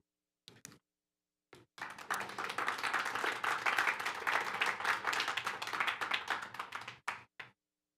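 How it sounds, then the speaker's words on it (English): Audience members at a school board meeting clap after a public comment, a burst of many hands that starts with a few isolated claps, swells into steady applause for about five seconds, then trails off into scattered final claps. "Please refrain from clapping after anyone shares public comment."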